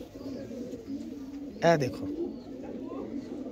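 Teddy pigeons kept by a breeder give a single short, throaty coo close by, over a low background hum, while someone speaks briefly nearby.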